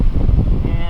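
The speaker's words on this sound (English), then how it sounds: "Sorry for the wind, it's a little windy, it's freezing" Wind buffeting a microphone outdoors on a cold, foggy day beside a Subaru WRX STI, a loud, continuous low rumbling roar that fills the moment.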